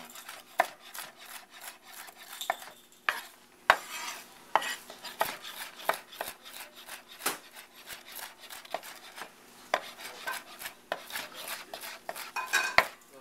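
Toasted walnuts rough-chopped on a wooden board with a knife, a quick irregular series of crisp knocks and scrapes, close and fairly quiet, with no talking.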